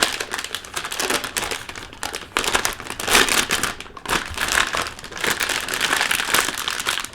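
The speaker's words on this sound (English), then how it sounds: "So you'll notice the motherboard is actually in a plastic bag. This is for anti-static." Crinkling plastic anti-static bag holding a motherboard being opened, a dense run of close, loud crackles and rustles lasting several seconds with brief pauses.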